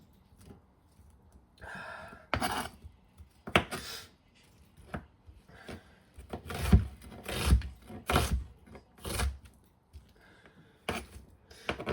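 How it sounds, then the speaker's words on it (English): A knife chops onions on a cutting board in a home kitchen, giving irregular clusters of crisp, close cuts with soft sniffles and breaths between them. "I hate cutting onions."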